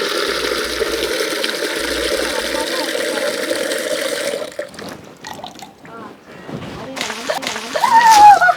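Water poured while watering plants splashes and spatters in bursts, loud and close, with people talking over it.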